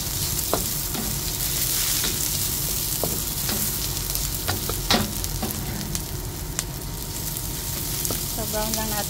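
Garlic, ginger and onions fry in oil in a pan, a steady close sizzle with occasional scraping stirs and clicks running throughout.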